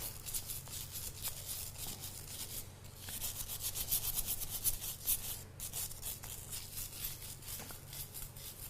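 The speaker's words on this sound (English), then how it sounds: "I'm going to scrub it a little bit more with this." Scrubbing a surface clean to lift grit and dirt, a steady rubbing, brushing sound that runs throughout, close and moderately loud with a fuller burst midway.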